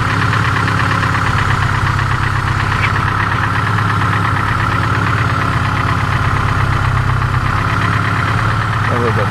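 A Ford Festiva engine idles low at about 800 RPM with a slight knock, a loud steady close-up rumble with a faint rhythmic ticking throughout.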